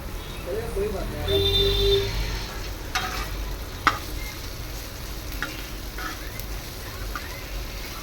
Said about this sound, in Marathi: हेही व्यवस्थित असं आपण भाजून घेऊया हाय फ्लेमवरतीच पटपट हे भाजून घ्यायचं